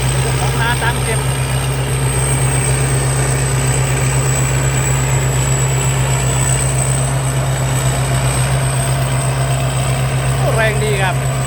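A Thai Seng Chao Phayu combine harvester engine runs steadily nearby, giving a loud, unbroken low drone and a thin high whine, with faint voices briefly audible near the start and end.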